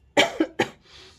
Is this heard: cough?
yes